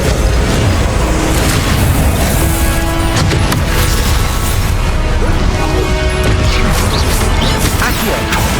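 Confringo spell explosions in the Hogwarts Legacy video game, rendered as loud, dense booms and crashes layered over constant combat noise, relentless and intense from start to finish.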